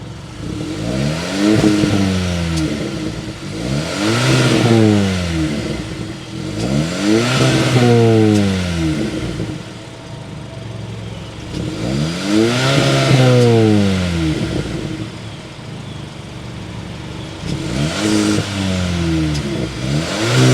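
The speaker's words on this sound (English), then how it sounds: "start it up, give it some revs so you can hear it right now" A 2023 Hyundai Kona N Line's 1.6-liter turbocharged engine revs repeatedly through its exhaust, rising and falling in five or six loud, close throttle blips with no talking.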